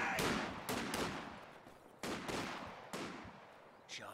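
Company of Heroes 2 battle with a sniper firing at riflemen from a distance: five sharp, loud shots with ringing decay, spaced about a second apart.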